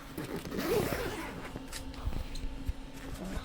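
A zipper pulled along a baby stroller's fabric in a quick rasping stroke, close up, followed by soft handling noises and faint background murmur.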